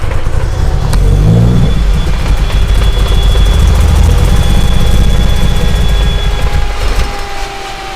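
A big-turbo Proton Waja MIVEC tuned to about 400 hp is started at a home workshop. The engine idles loud and rough close up, with a thick low rumble and a whining tone, then holds steady and eases off toward the end.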